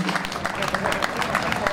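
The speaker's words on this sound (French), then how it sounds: "On peut les applaudir." A crowd applauds prize winners at the Critérium Jean Rolland rally gathering in Saint-André-les-Alpes, continuous dense clapping throughout, close and even in level.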